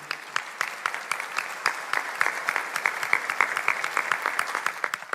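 A congregation at Catholic Mass applauds after the Gospel reading, producing a sustained, moderately loud ripple of many overlapping claps that holds steady for several seconds.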